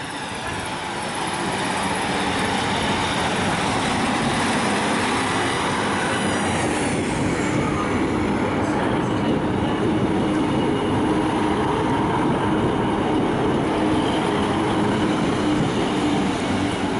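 A Northern Class 150 diesel train moves through Manchester Piccadilly, a loud, steady rumble of engine and wheels on rail that continues throughout, with faint squeals and clatter of carriages.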